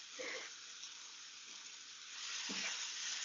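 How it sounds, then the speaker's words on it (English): Leeks and onions sizzle in a pan with a faint, steady frying hiss. A few soft stirring knocks rise over it, and the sizzle swells a little toward the end. No talking. "Start stirring up the leeks, okay, and put it all together with a mix of the onions as well"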